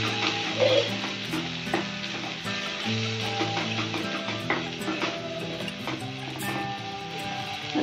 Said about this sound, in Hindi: अभी प्याज फ्राई हो गई है तो इसमें हम टमाटर का पेस्ट डालकर फ्राई करेंगे